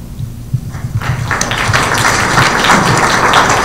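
An audience applauds at an all-candidates political forum. The clapping swells over the first second into a steady, dense patter of many hands that continues without a break, with a low hum underneath.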